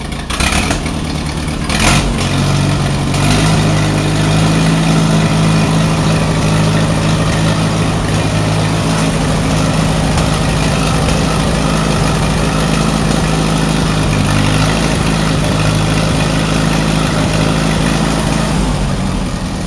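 Allis-Chalmers WD45 tractor engine idling while it warms up, a steady low throbbing rumble running continuously and close, with a loud knock near the start and no voices.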